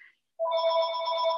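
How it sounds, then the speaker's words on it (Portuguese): A home landline telephone rings with a steady electronic tone, loud and close, following a brief faint sound and a short silence. "eu vou ter que desligar o telefone de casa"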